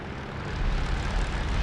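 P-51 Mustang piston engine held at 2,000 RPM while warming up in the DCS flight simulator, a steady, loud propeller drone with a slight swell in volume.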